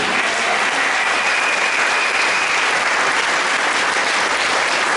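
A church congregation at a Sunday worship service breaks into loud, continuous applause that fills the room evenly from start to finish, with no voices standing out.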